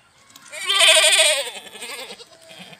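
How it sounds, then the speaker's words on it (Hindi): A Barbari goat on a farm gives a loud, wavering bleat that swells and then fades into a shorter, quieter follow-on cry, heard alone at close range. "और ये बर्बरी बकरी है,"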